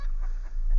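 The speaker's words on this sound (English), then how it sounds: "I just have the 2 roosters and the 1 hen in there now" Chickens in a coop, two roosters and a hen, giving a brief burst of close, fairly loud clucking over low rumbling background noise.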